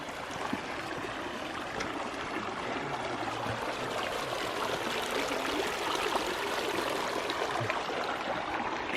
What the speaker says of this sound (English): It just sounds amazing the way the water runs, and a little bit of wind through the pines.